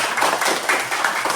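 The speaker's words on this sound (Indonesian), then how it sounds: "berikan tepuk yang gemuruh untuk hari ini" Elementary school teachers at a coding and artificial intelligence training session break into brisk, loud clapping, a dense close burst of many hands with no one speaking over it.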